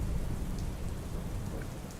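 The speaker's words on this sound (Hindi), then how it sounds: "तेज हवा के साथ जोरदार बारिश हो रही थी।" Heavy rain driven by strong wind pours down as a dense, steady hiss, with deep thunder rumbling underneath throughout.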